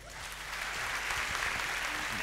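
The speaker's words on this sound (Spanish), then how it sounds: "Un fuerte aplauso." An audience gives a strong round of applause after a Spanish talk on women aviators and STEM, a dense, steady wash of clapping that swells slightly and holds throughout without words.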